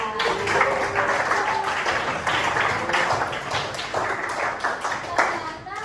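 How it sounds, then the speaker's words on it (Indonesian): A crowd claps continuously for several seconds, a dense patter of applause with voices mixed in underneath. "kasih tepuk tangan lagi buat Bagas"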